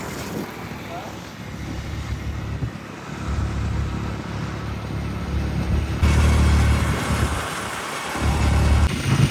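City road traffic in Kathmandu, a steady dense rumble of engines and passing vehicles that swells louder toward the end, with voices faintly mixed in.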